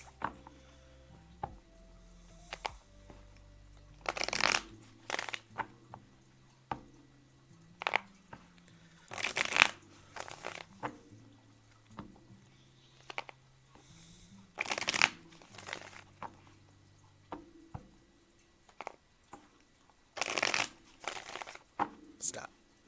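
Tarot cards being shuffled by hand in a series of crisp riffling bursts roughly every five seconds, close up, with a person talking softly in between.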